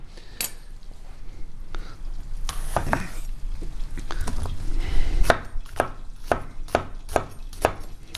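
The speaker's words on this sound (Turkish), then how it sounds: "Ben bu ara soğanı da doğramış olayım" A knife chops an onion on a cutting board in irregular sharp knocks, quick taps grouped together, close and fairly quiet, with light kitchen clatter behind.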